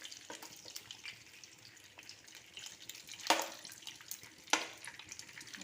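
Ghee melting in a pan gives a faint, steady sizzle with two brief sharper crackles, and nobody speaks.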